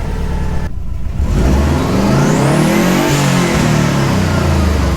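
A Nissan Skyline R33 engine cranks after a brief pause, catches and roars up into loud, steady revving that holds close and strong to the end.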